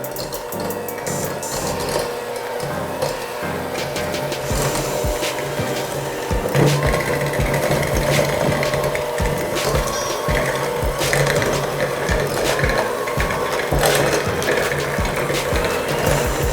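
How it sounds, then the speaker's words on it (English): An electric hand mixer creams maple sugar cookie dough in a bowl, a steady close mechanical whir with rattling beater clatter that runs without a break throughout, no voices. "I prefer to use a hand mixer to make it easier for demonstration purposes."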